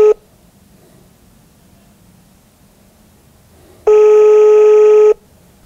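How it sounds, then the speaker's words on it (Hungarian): Telephone tones sound loud and clean: a short beep at the start, then silence, then one steady tone lasting just over a second, with a voice speaking briefly. "itt látok egy telefonszámot, én akkor fölhívom őket."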